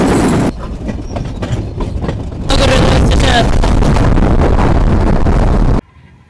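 The Chilahati Express, a superfast intercity train, roars past at close range in a loud, dense wash of rail noise and clatter that surges midway and then cuts off sharply, with a voice speaking over it.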